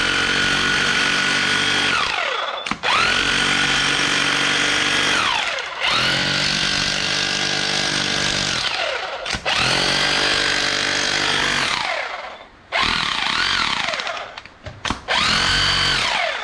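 A Ramset rotary hammer drill runs in hammer mode in several long bursts with short pauses between, a loud rough motor whine with a rapid pounding rattle.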